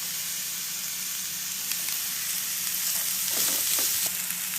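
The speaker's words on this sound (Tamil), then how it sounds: "வெங்காயம் வதங்கிடுச்சு இப்போ கேரட் போட்டுக்கலாம்" Chopped onion and carrot sautéing in a pan for vegetable momos, a steady hissing sizzle throughout with a few stirring scrapes toward the end, close by and no voices.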